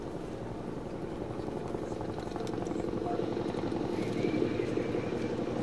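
A Mississippi National Guard military aircraft flyby at a Vietnam veterans memorial in Ocean Springs, Mississippi, heard as a steady, distant engine and rotor-like drone that swells slightly louder toward the end.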